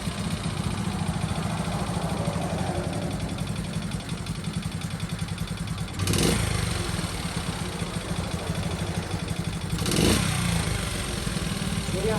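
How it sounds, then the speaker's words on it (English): A small camp-bike motorcycle engine idles steadily on choke, a continuous low putter close by, with two brief louder swells partway through and no talk. "idling and running off a choke"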